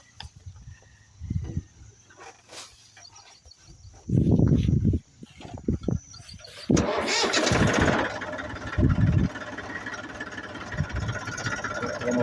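A tractor engine on a farm cranks in short bursts, then catches and settles into a loud, rough running rumble that continues steadily, with faint voices now and then.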